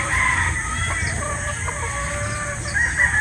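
Pullets and chickens clucking with a rooster crowing at a game fowl farm, a busy close chorus of overlapping clucks and crows with steady background noise.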